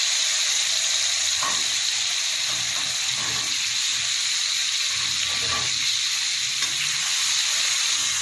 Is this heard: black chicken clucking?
no